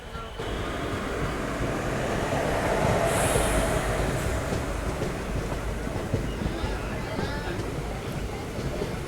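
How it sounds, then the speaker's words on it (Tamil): A passenger train rumbles along at speed on the Jolarpettai to Erode line after leaving Karuppur station, with a steady clatter of wheels on track and occasional high metallic squeals. "நம்மளுடைய ட்ரெயின் இப்போ பார்த்தீங்கன்னா 3 நிமிஷத்துக்கு அப்புறம் கருப்பூர் ஸ்டேஷன்லேருந்து டிபார்ட் ஆகிடுச்சுங்க."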